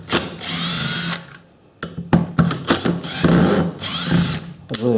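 Power drill backing long screws out of a Makita belt sander: several loud, close whirring bursts of varying length, separated by short pauses and clicks of the tool and parts.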